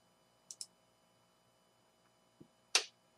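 Several light, dry clicks from a computer mouse sound close and quiet in a silent room: a quick double click, a soft tap, then one sharper click.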